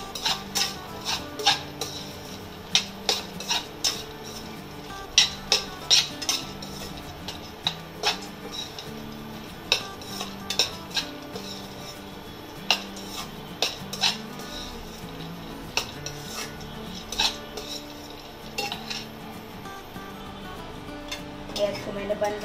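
Metal spoon scraping and clinking in a pan as gond and raisins are stirred and roasted together for gond laddu, with steady repeated clanks and scrapes throughout and a voice speaking at times.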